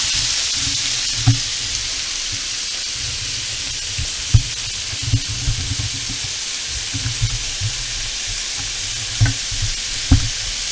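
Shrimp frying on an electric stove at high heat makes a constant bright hiss and sizzle, with irregular low knocks and scrapes from stirring or shifting food in the pan, and no voices.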